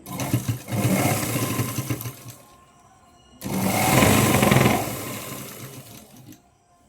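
Sewing machine running in two bursts of stitching on Punjabi dress fabric, a steady close mechanical whir with a quiet pause between runs.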